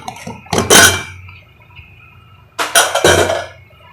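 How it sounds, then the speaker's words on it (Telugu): Metal lid of a pressure cooker being lifted off after the steam has been released, cooking Navaratri katte pongali prasadam: two clattering, clinking bursts of metal a couple of seconds apart, close and fairly loud. "మూత తీద్దాము."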